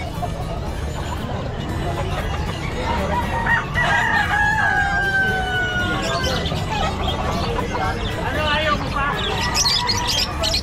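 Fighting cocks crow at an outdoor pet market in Bocaue during monsoon rain, several drawn-out calls rising over a busy crowd, with people talking throughout.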